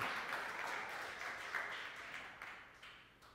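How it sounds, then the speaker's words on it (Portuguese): A church congregation applauds during a Bible study service, a soft, far-off stream of steady clapping that slowly fades toward the end. "Vamos aplaudir a Jesus bem forte nesta manhã"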